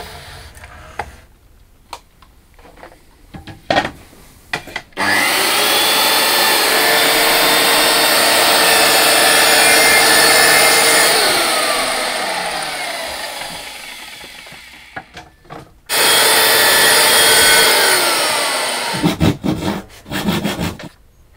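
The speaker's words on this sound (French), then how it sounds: "Scie les plaques de fibre gypse avec une scie plongeante et un rail de guidage adapté." A plunge saw on a guide rail whines loudly through gypsum fibre board for about ten seconds, pauses briefly, then cuts again, with scattered clicks and knocks before and after.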